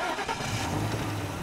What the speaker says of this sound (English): Jean is loaded into the car and driven away.